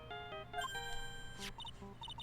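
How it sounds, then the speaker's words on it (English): A phone ringtone in the Ace Attorney video game plays the Steel Samurai theme as short, bright electronic tones in a quick melodic pattern, faint and alone. "I don't like the sound of this ringtone right now."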